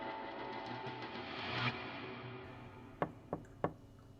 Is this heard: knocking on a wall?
yes